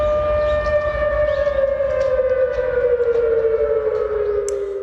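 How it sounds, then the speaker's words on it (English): A loud, sustained air raid siren wails steadily in Seoul during a North Korean satellite launch alert, its tone slowly falling in pitch, with a low rumble of background noise beneath it. "people awoke to the sound of the air raid siren"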